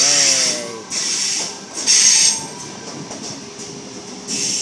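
A Sydney Tangara train pulls away from Oatley station amid steady rail rumble, with a rising whine of motors and bursts of high-pitched hiss, close by.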